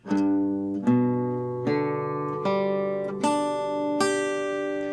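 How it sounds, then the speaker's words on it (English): An acoustic guitar chord played note by note, each string plucked in turn and left ringing, six clear notes overlapping at a slow steady pace. "I want you to strum this chord."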